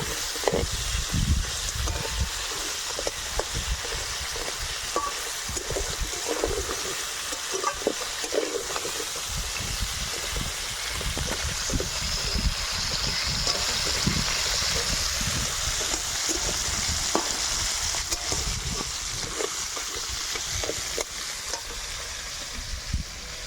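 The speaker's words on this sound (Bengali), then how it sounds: "তো কাঁকড়াগুলো ভালো করে নেড়ে চেড়ে ভেজে নেব।" Crabs stir-fried in oil in a kadai sizzle with a constant hiss, broken by irregular scraping and stirring knocks. The sound stays steady and close, with no talk.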